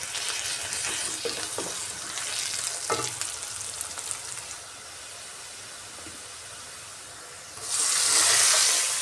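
Egg vermicelli frying in a pan while being stirred, a continuous close sizzle with scraping strokes and utensil taps, then a sudden louder hissing burst of steam near the end, with no talking.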